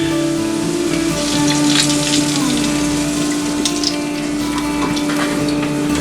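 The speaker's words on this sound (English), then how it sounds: "We're going to add the milk." Milk poured into a hot pan of caramelized onion, a dense steady sizzle with a constant hum beneath, close and fairly loud without talk.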